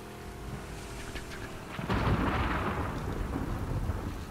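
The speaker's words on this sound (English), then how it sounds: "Wow, nothing like thunder." Thunder in The Last of Us Part II during a rainstorm: a heavy rumbling roll swells in and lingers over steady rain, loud and broad, with no voices.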